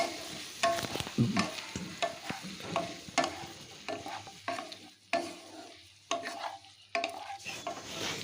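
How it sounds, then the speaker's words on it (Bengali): Vigorous stirring of cauliflower with sauces in a pan: rapid, close scraping and clattering strokes in quick succession over a light sizzle, loud and busy throughout. "এবার বেশ ভালো করে মিশিয়ে নিচ্ছি ফুলকপির সাথে"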